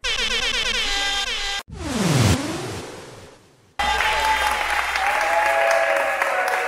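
Loud applause and cheering fill a star-studded stage show, continuous crowd clapping with air horn blasts and a sweeping electronic effect, then clapping resumes strongly.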